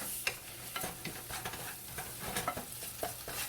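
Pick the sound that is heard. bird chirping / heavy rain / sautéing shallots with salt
sautéing shallots with salt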